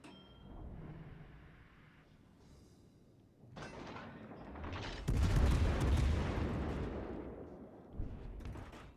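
Naval guns fire in World of Warships: Legends: quieter shots early on, then a loud booming barrage around the middle that rumbles on for a few seconds, with a further blast near the end.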